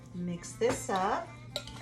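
A spoon works through a berry cobbler mixture in a casserole dish with a few short scraping clinks against the dish, close and brief, ending in one sharper knock.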